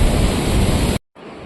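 Loud, steady broadband rush of a glacier-fed waterfall on a mountain trek, heard up close for about a second before cutting out and returning much quieter.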